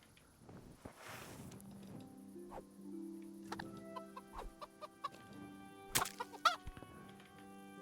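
Chickens clucking in the medieval game Kingdom Come: Deliverance, a series of short, fairly close clucks and squawks that build toward louder bursts near the end over a quiet background.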